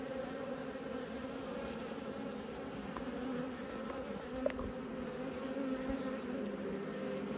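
Honeybees buzz steadily inside an Australian backyard hive holding a newly mated queen and fresh eggs, a dense continuous drone with no voices and one brief sharp tap partway through.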